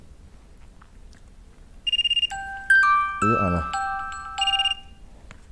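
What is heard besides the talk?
mobile phone ringtone ringing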